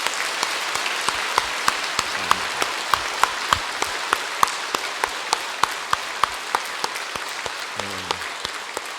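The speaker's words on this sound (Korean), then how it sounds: "박수하면 어떻겠습니까?" A congregation claps together in church at a Sunday Thanksgiving service, with crisp, regularly spaced claps sounding steadily throughout and brief murmured voices now and then.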